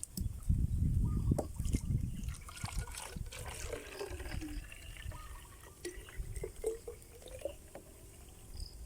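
Water pours and splashes into a container, loud at first, then trickling and dripping more softly with scattered clinks.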